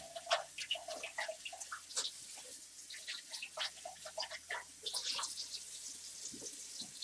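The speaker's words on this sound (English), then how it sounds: "Rinse out the pitcher" Water runs and splashes while a juicer pitcher is rinsed out at a sink, with irregular drips and sloshing bursts over a low steady hum.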